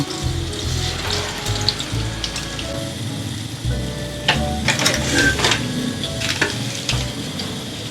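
Shami kababs made from moong dal sizzling in a pan as their second side fries, a steady close crackling hiss with scattered pops and spatters throughout.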